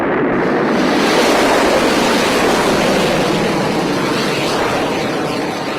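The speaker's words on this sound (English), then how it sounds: "Liftoff will start in T-minus 10 seconds. 10, 9, 8, 7, 6, 5, 4, 3, 2, 1. We have ignition." Rocket liftoff after ignition, a continuous loud, broad roar that rumbles steadily throughout with no voices over it.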